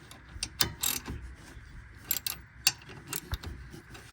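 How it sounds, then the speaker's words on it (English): Ratcheting clicks and metallic clanks from an 18mm socket wrench loosening the rear caliper bolts on a 2015-2023 Dodge Charger brake, in short irregular bursts close by with no talking. "Now using a 18mm socket, we're gonna remove these two bolts on the back of the caliper."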